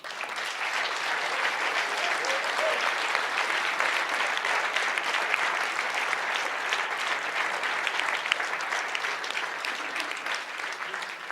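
An audience at a 2019 New Year's greetings ceremony applauds a Swiss champion women's rugby team with sustained, even clapping from a crowd, steady and moderately loud for the whole stretch.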